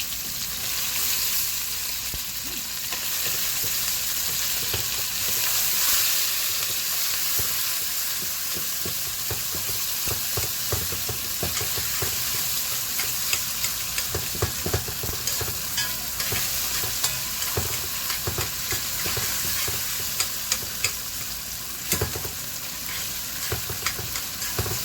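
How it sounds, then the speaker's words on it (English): Garlic and tomato frying in a pan for a squash and chicken stew, a dense steady sizzle close by with frequent scraping and clacking of a spoon stirring, no voices. "Let this fry up a little, maybe like another minute or so"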